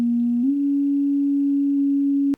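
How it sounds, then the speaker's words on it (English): Moog Micromoog synthesizer with its filter pushed into self-oscillation, played from the keyboard as a pure sine tone: one steady, loud tone holding a single pitch for over two seconds, with a small step up in pitch early on and an abrupt stop. "you can use the keyboard to play the filter as a sine wave oscillator"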